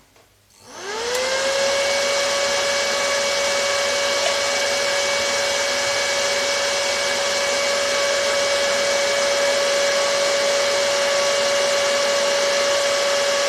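An MMA 250 welding inverter is switched on, and its cooling fan spins up within a second into a loud, steady whirring whine with a sustained tonal hum, running alone without talk.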